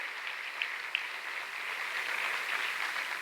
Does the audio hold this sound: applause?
yes